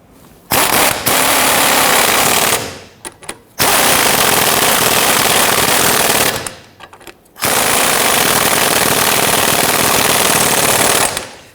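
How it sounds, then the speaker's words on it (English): Impact wrench hammering ball joint nuts onto the front lower control arm of a 1992-1996 Toyota Camry, loud rattling bursts in three long runs separated by brief pauses. "We'll tighten these in, securing that ball joint to the control arm."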